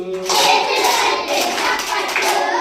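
Children clap along to a Telugu classroom song for third graders, a steady flurry of handclaps blended with young voices singing over them.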